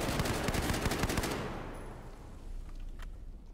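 Rapid automatic gunfire in the video game Battlefield 4, a loud dense burst of repeated shots for about a second and a half that then breaks off into a decaying echo and quieter game ambience.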